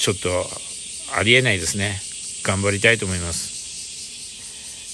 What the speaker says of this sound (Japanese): すっごいセミの声ですよね。